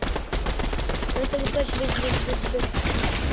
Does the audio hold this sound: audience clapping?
no